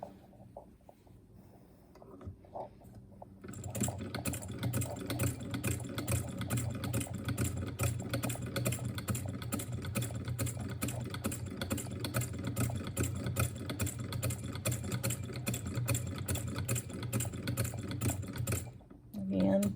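A National VB-TT Type 5 treadle sewing machine stitches a seam, a steady, rapid mechanical chatter running close and continuous for about fifteen seconds after a quiet start, then stopping abruptly.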